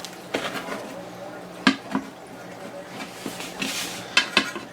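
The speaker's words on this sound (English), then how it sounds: "So our pizzas are done, fresh out of the oven. We're going to go ahead and cut them up." Fresh baked chicken, broccoli and Alfredo pizzas being cut up, with a few sharp clicks and scrapes of a cutter or knife on a pan spread across a quiet kitchen background.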